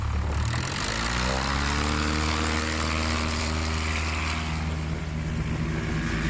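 A STOL aircraft at a heritage STOL race takes off in a short run, its propeller engine droning loud and steady with a rising whine as power builds, heard from close by without talk.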